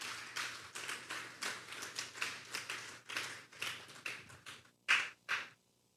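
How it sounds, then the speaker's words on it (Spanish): Clapping from a church congregation, a sparse, uneven patter of hands rather than a full roar, fading out, then two last louder claps near the end. "Denle un fuerte aplauso pues al Señor."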